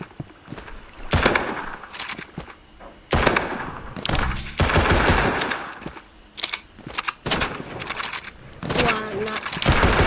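Sniper rifle and other gunfire in a Roblox match crack out in sharp, irregular bursts, some clustered and rattling, separated by quieter gaps.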